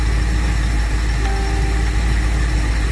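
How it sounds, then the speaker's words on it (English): A 1989 Bayliner Capri ski boat's 5.0 inboard/outboard engine idles steadily, a loud, close, continuous rumble with a constant hum and no voices. "Here's a good shot of the engine running."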